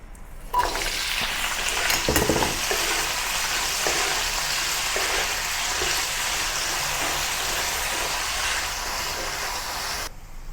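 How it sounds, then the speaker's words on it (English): Potato cubes frying in a few tablespoons of hot oil in a pan for a potato and peas curry, making a loud continuous hiss that fills the whole stretch, with a few early stirring knocks. "Heat a few tablespoons of oil in a pan and then add the potato"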